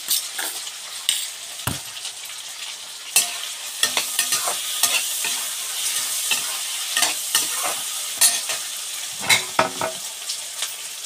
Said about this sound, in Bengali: আলুগুলো আস্তে আস্তে ভাজা ভাজার মতো হয়ে আসছে।